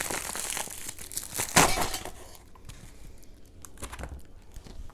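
Plastic wrapping around a 1970s long range patrol food packet, beef stew menu, crinkles and tears in close, bursty handling noise, with one sharp loud rip early on before quieter rustling.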